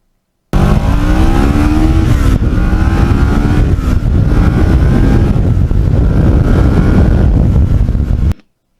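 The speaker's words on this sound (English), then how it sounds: "when you go through the gears, the sound is just beautiful. It's a very mechanical sound" Custom Kawasaki Ninja motorcycle engine roaring loud and close at full throttle, its pitch climbing and dropping as it shifts through the gears, with a harsh mechanical tone and no talk.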